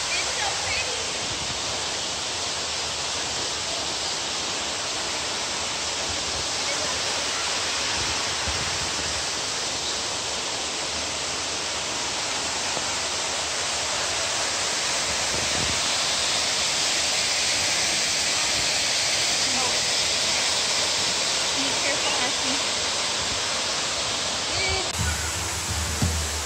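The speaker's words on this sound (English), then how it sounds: "There's water dripping from the mountainside, canyon side." Water falls steadily from a canyon side as a continuous broadband rushing wash, moderately loud and unbroken throughout.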